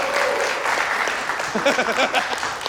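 An audience applauds on a televised quiz show, a moderate wash of clapping with voices and cheering mixed in, fairly close and continuous throughout.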